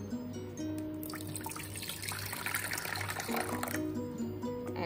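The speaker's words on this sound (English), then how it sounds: "For that we need to put some water in the pan." Water poured into a cooking pan at home for coriander tea, a steady splashing trickle that runs for several seconds beneath sustained background music.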